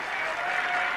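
A speedway crowd applauds the 1977 Yorkshire Television Trophy winner with dense, steady clapping that carries evenly through the whole short burst.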